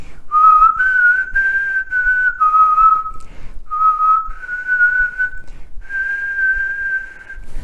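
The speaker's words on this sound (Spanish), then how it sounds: "Ya veis que silbo muy mal." A person whistles a wavering tune, shifting between notes by moving the tongue, in several sustained phrases broken by brief pauses, clear, close and alone.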